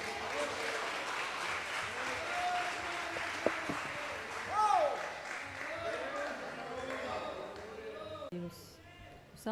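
Church congregation at a testimony worship service breaks into sustained applause, a dense wash of clapping with scattered voices and cheers mixed in, steady and fairly loud before tapering off near the end.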